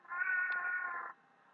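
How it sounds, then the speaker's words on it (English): A single drawn-out cat meow, close and clear, lasting about a second before fading into quiet. "It's my cat."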